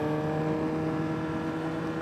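A steady 2022 Suzuki GSX-R1000R sport motorcycle engine drone hums at a constant pitch, close and continuous, with no clear rise or fall in revs.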